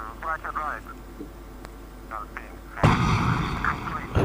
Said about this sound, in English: There's explosions.